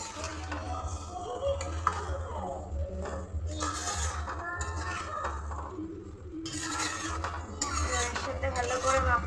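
A spoon scrapes and clinks against a pan while chicken do pyaza is stirred, in intermittent metallic scrapes and taps, close by, partly under a woman's speech.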